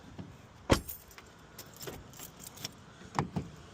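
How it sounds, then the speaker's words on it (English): Keys jangle and a lock clicks on a Honda Civic door fitted with a new lock cylinder, with a sharp clunk followed by scattered lighter metallic clicks over faint background noise. "Alright, so the car is locked. I'm gonna lock it now."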